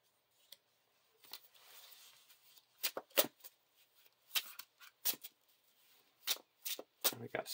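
Cards from the Lord of the Rings living card game being shuffled by hand on a table, heard as a series of close, sharp riffling and snapping bursts at an irregular rhythm with quiet gaps between.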